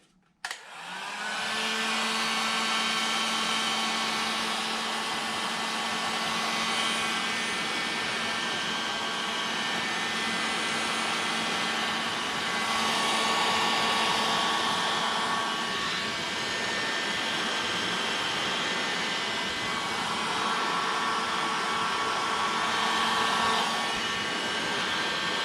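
Hot air blower heating a repair joint on an extension cord, a steady loud whooshing roar that starts abruptly and runs continuously without pause, slightly swelling at times.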